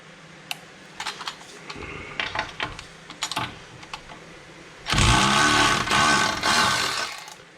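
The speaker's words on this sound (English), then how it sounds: "Oh, I love these speed wrenches." A speed wrench works loose the nuts on a Jaguar MKII during reassembly, first as a run of light, irregular clicks and taps, then a loud, sustained rapid whirring rattle close up for the last few seconds.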